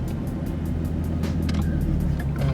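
A Ford Mustang with 3.73 gears and traction control switched off accelerates hard, its engine a loud steady low roar throughout with brief higher whines rising near the middle.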